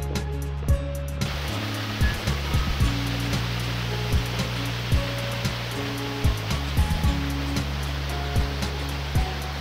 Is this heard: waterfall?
yes